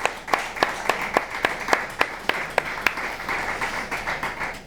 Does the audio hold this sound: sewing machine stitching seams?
no